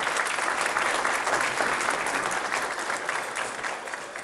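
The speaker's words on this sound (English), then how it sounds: "Please give another big round of applause to Brother Hassan Shibli." A banquet audience claps in a dense, steady round of applause that holds for several seconds and only eases slightly toward the end, with no talking over it.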